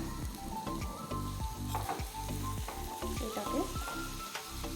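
Spice paste for khichuri sizzles and fries steadily in hot oil, with a continuous close crackle and occasional stirring scrapes throughout.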